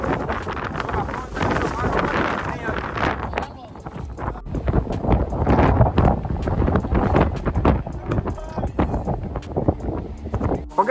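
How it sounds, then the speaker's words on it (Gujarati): Strong wind on top of Girnar mountain buffets the microphone in heavy, gusting rumbles, while people talk nearby under and between the gusts. "ઉપર બહુ એટલે બહુ જાજો પવન છે"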